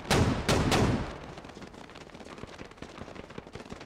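Three loud, close machine gun shots crack in quick succession in the video game Squad, followed by a fading echo and faint distant battlefield noise.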